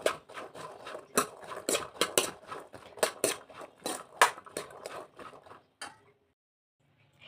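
A spoon scrapes and clanks against a pan while stirring a chickpea usli mixture, giving close, irregular metallic knocks and scrapes in quick succession that stop abruptly near the end.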